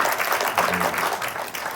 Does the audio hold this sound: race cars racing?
no